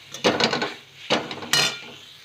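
Metal spatula scrapes and clatters in a pan while masala and rice are stirred for street-style tawa pulao, three short bursts of scraping close by with brief pauses between.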